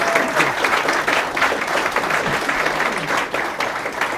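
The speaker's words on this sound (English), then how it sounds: "Let's give them a round of applause here." Dense, steady applause from a conference audience at a Bitcoin talk, continuous clapping in a large hall with faint crowd murmur and no break.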